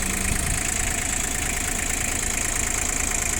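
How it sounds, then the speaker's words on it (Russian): Three-cylinder diesel engine of a used Japanese excavator idling evenly, a steady close mechanical drone with a fine regular knock and no talk over it. "Работает двигатель очень ровно. Трехцилиндровый мотор у него."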